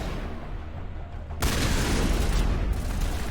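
Shotgun fire in the video game Mass Effect, a sudden loud broadband blast that cuts in partway through and holds as a dense roar with a further burst near the end.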